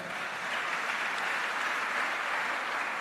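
A church congregation applauds during a service, a dense, steady wash of clapping from many hands that holds evenly throughout without any speech.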